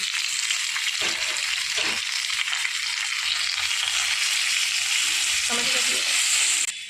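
Grated ginger and chopped tomato fry in a pan with a loud, steady sizzle that runs throughout, broken by a few brief bursts as pieces drop in and are moved around.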